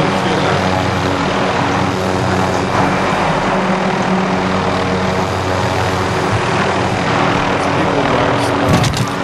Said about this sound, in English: I run somebody over with a helicopter.